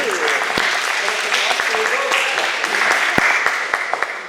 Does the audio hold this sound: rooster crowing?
no